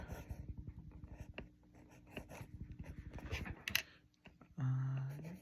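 Letters being handwritten on paper, with short irregular scratches and taps of the pen in quick bursts, close and fairly quiet, followed by a brief louder hum near the end.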